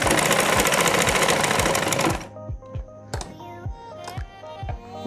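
An electric sewing machine stitches a fabric face mask in a loud, fast rattling run that stops after about two seconds, followed by a few short bursts of slower individual stitches.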